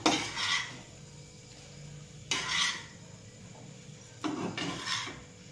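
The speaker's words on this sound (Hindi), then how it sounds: "भात आउ परिबा गुडी को भल से मिक्स करदबा" Leftover rice being mixed into fried rice in a pan, with three bursts of spatula scraping and clinking against metal separated by quieter pauses, close and moderately soft, no talking.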